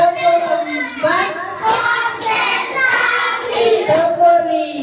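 Children clap in counted rounds, quick claps mixed in with a group of young voices chanting together, loud and close.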